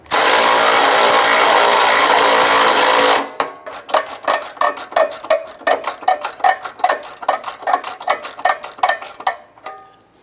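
A tool tightens the exhaust flange nuts on a 2011-2021 Jeep Grand Cherokee 3.6L V6 during catalytic converter replacement: a loud continuous whir for about three seconds, then a rapid series of sharp ratcheting clicks.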